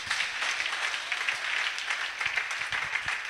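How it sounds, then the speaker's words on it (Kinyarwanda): Church congregation clapping in praise to God during a Kinyarwanda sermon, an even wash of many hands applauding at moderate volume with no speech over it. "Komera Imana amashyi menshi"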